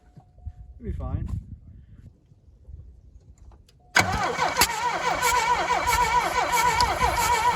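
An old, cheap, rusty car with low compression on one side stays mostly quiet apart from faint rattles and a brief voice, then its engine abruptly catches and runs loud and steady, rough and close.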